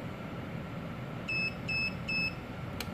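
Three short, evenly spaced electronic beeps sound from a wireless amplifier remote during pairing, followed by a brief click, all over quiet background hiss.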